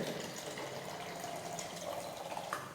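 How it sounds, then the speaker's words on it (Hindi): Water poured into a glass or plastic vessel, filling it about a third of the way, a quiet steady trickle and splash with faint bubbling that continues throughout. "इस पात्र में हम लगभग 1/3 हिस्सा पानी से भर लेते हैं।"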